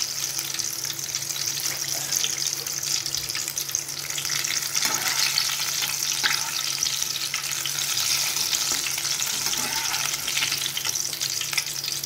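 Vegetable bhaji fritters frying in hot oil give a steady, close sizzle and bubbling crackle throughout, with occasional clinks of stirring and no speech.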